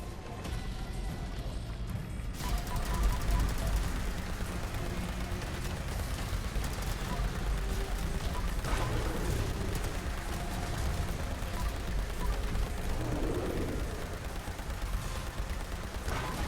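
Plasma rifles firing in Fallout 76 in rapid, continuous bursts, dense and loud throughout with crackling energy shots and impacts, sustained without pause.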